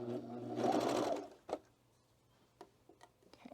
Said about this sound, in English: I'm going to continue this serging seam right here.